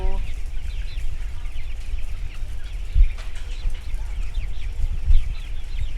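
A crowd of broiler chickens clucks inside a coop on a broiler farm, giving a dense, steady chatter with low rumbling and a couple of louder thumps throughout.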